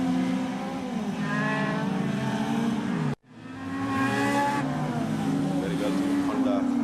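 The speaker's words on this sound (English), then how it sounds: "Honda cars, 1600 cc's, all with equal capacity." Honda 1600cc race cars in a super cross circuit race roar past with high-revving engines, loud and continuous, with a brief cut midway, under a commentator's steady talk.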